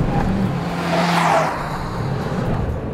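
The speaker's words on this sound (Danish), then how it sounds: "Og det er hurtige kurver, jeg kører i øjeblikket. 130-140 km i timen." A short-wheelbase car takes fast corners at 130-140 km/h. The engine climbs in a rising whine, swells as it passes close, then settles into a steady roar with road noise and no talk.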